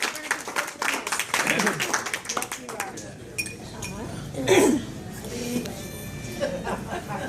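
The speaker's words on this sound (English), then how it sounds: "I wanted to congratulate you and give them a round of applause" Luncheon guests break into applause amid clinking glasses and dishes, with the clapping loudest at first, then thinning under chatter and a voice talking.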